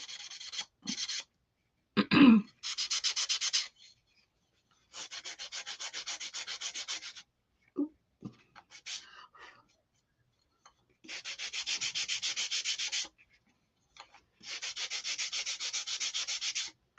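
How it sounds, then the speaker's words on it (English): Sandpaper rubs along the edges of a wooden block for a snowman block set, in several separate bursts of steady back-and-forth scraping with quiet gaps between them, close and clear, with one brief cough-like sound early on. "I just want to sand around all of my edges."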